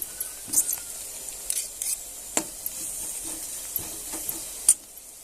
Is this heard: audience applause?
no